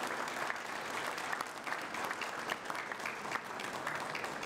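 A ballet festival audience applauds the ballerinas, giving a dense, steady wash of clapping from a crowd that carries on evenly for several seconds with no voices over it.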